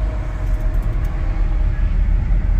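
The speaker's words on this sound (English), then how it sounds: "We got a train coming." A train passing near Burbank Airport gives a steady low rumble that holds at a moderate level throughout, with no voices heard.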